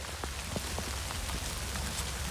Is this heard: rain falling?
yes